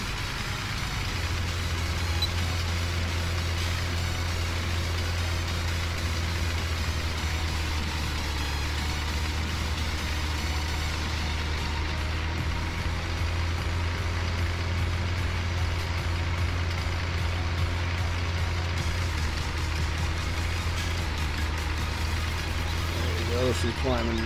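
A vehicle engine labours uphill in third gear in Farming Simulator 17, a loud, steady low drone held for the whole stretch, with someone talking over it.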